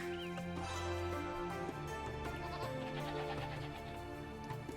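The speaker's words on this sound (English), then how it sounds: "We're gonna sacrifice the sheep." Sheep in the video game Age of Empires 2 giving a bleat over a dense layer of in-game music and ambience, steady and moderately loud with no speech.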